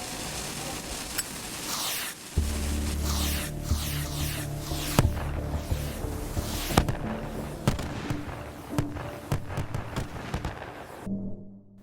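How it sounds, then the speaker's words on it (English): Fireworks go off on a night range in the VR shooting game H3VR: a steady low rumble beneath a string of sharp pops and crackles, followed by a brief quiet stretch at the end. "This is the perfect place to come if you want to shoot off some fireworks"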